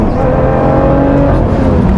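A 2017 Lotus Evora GT430 engine pulls hard at full throttle on a track, a loud, steady, continuous roar with rising harmonic tones sustained throughout, no talking.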